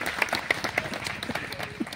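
A church congregation claps together in a dense, continuous patter, close and fairly loud, with a few sharper claps standing out.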